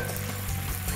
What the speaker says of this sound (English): Now I'm adding some broth to the butter